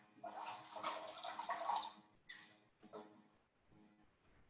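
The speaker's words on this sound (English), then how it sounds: "So I'm going to add some of this pretty warm water." Pretty warm water poured in a cooking class setting, a loud splashing burst for about two seconds, then several shorter, softer pours and trickles.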